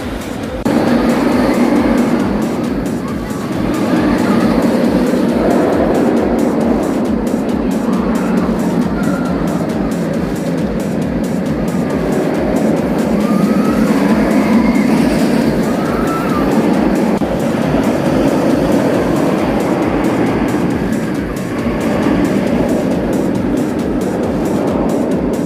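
Batman The Ride roller coaster at Six Flags Over Texas roars continuously for the whole stretch, a loud rumbling rush of wheels on track with wind buffeting, swelling and easing as the train runs the circuit.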